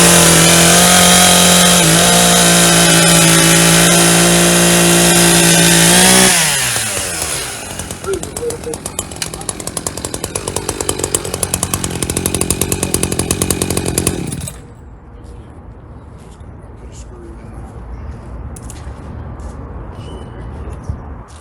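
A STIHL gas chainsaw roars loudly at full throttle while cutting, then gives way to an Echo chainsaw running steadier, ending with a quieter idling engine nearby.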